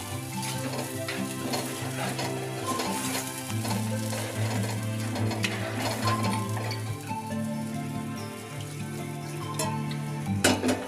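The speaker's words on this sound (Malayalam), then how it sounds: "ഇനി സ്വല്പ നേരം ഈ അരപ്പിൻ്റെ ഒരു പച്ച മണം ഒന്ന് മാറുന്നിടം വരെ ഒരു സ്വല്പ നേരം വഴറ്റാമേ" Masala paste for an anchovy fish curry sautéed and stirred in a pan, a steady close sizzle with scraping stir strokes throughout, over background music.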